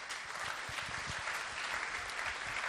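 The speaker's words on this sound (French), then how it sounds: "Donc avec Philippe, on peut l'applaudir, Philippe." Steady, even applause fills a room during a New Year's greetings event at a business institute, dense and continuous but fairly quiet throughout.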